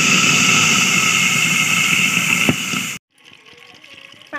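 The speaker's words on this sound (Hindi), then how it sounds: "इसमें ऐड करेंगे हल्का सा पानी।" Water gushes steadily into a pot of rice with cloves and cinnamon for kheer, a loud continuous pour lasting about three seconds before stopping abruptly, followed by quieter kitchen sounds.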